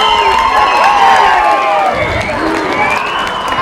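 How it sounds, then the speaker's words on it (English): A rugby league crowd at a Tamworth versus Coffs Harbour match roars and cheers after a try, with high shouts and whoops swelling over a dense, loud crowd noise throughout. "while the crowd's jumping up and down"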